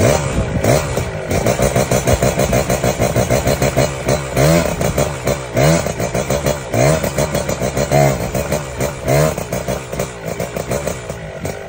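A motorcycle engine revs repeatedly in close range, loud throttle blips rising and falling in quick succession with mechanical clatter between bursts.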